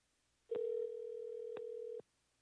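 A steady telephone dial tone holds for about one and a half seconds, with brief dialing clicks at its start, middle and end, clear and close, with no voices.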